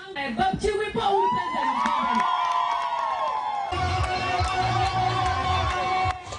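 A crowd at a campaign rally in Achaba, Uganda, for NRM candidate Alum: loud, continuous shouting and cheering from many voices with whoops and high calls, sustained throughout.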